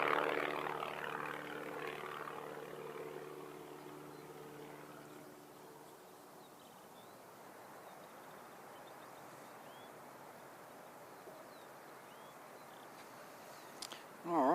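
A propeller airplane takes off with the wind at Christchurch Airport, its droning tonal engine hum fading steadily into the distance over the first several seconds before giving way to quiet background noise.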